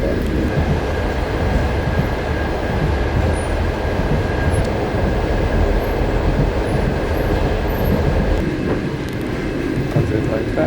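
Steady rumble of a Russian passenger train near Perm rolling along the rails, a continuous low roar with faint rattling throughout.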